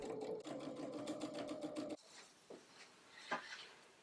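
A sewing machine runs for about two seconds understitching the seam allowance onto the lining of a wool coat, a close rapid whir that stops abruptly, followed by a few faint handling clicks.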